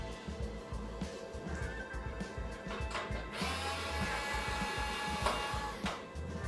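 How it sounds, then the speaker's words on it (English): A Dremel electric screwdriver unscrewing a laser tube whirs in short bursts, with ratcheting clicks and a louder continuous run in the middle, close and fairly quiet. "My Dremel screwdriver, we'll be doing a video on that one a little bit later."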